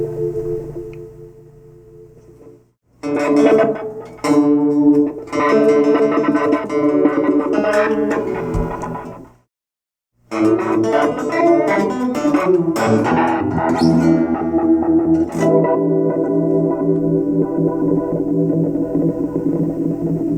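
An electric guitar runs through a glitchy reverb setting on an Empress Reverb pedal, playing loud, dense, washy phrases that cut abruptly to silence twice before swelling back in, with no talking.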